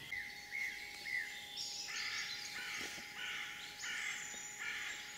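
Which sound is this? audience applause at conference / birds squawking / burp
birds squawking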